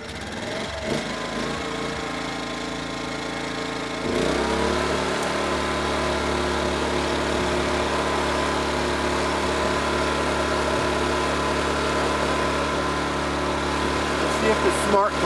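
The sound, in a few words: inverter generator engine starting and idling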